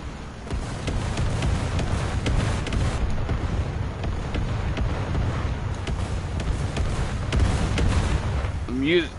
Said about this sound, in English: Using the artillery as a sound muffler is pretty smart.